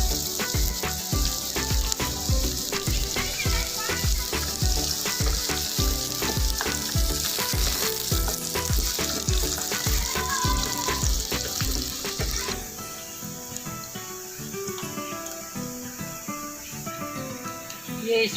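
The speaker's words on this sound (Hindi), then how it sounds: "प्याज इसमें फ्राई करेंगे।" Onions frying in hot oil in a pan after browned garlic, a dense, continuous sizzle with crackling pops throughout, close and loud, easing a little toward the end, with no one speaking.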